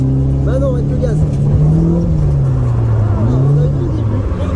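Toyota AE86 engine revs up and down nearby as throttle is applied during a drift lesson, the pitch rising and dipping under continuous road noise while people talk over it.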